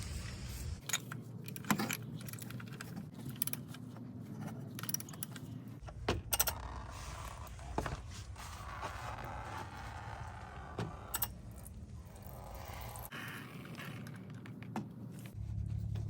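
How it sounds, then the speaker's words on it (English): Metal oil filter wrench, 64 mm, working the oil filter off a 2022 Toyota RAV4 XLE Hybrid, with close clinks, scrapes and jangling metal taps coming irregularly at moderate loudness, no talk. "now we're going to take off the oil filter using the 64 millimeter oil filter wrench."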